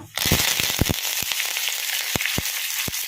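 Curry leaves and dried chillies hitting hot oil for a palak sambar tempering, a sudden loud sizzle with sharp irregular pops and crackles that continue throughout.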